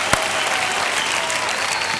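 Studio audience at a Hindi TV game show claps loudly after a song, a dense burst of applause that fills the whole moment with no talking.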